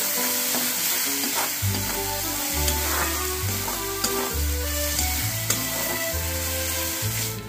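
Kasuri methi and garam masala are stirred into a sizzling palak paneer base in a pan. Steady frying hiss and stirring scrapes play under prominent background music.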